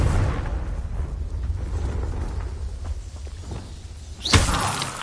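A Confringo blasting spell in Hogwarts Legacy goes off as one sharp, loud burst near the end, over a steady low rumble of game ambience.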